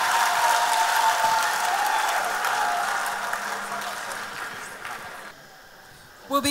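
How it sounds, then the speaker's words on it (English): Sustained audience applause at a beauty pageant, loud at first and gradually fading, ending with a few sharp sounds. "Give them the best applause you have given them all night."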